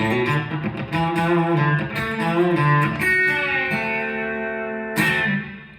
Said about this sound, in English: not really thinking about it, twang lick into a pre-bent D7th chord